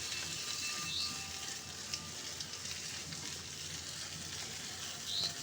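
Boiled masoor lentils sautéed with spices in a pan give off a steady, fairly quiet sizzle and hiss throughout, with a few faint scraping stirs.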